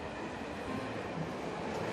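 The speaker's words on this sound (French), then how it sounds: "les trains qui passent sous les immeubles" A train rumbles past in a steady, dense roar, with faint rhythmic rattling from the cars.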